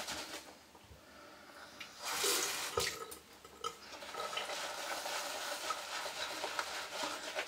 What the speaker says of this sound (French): Je vais mettre un peu d'eau.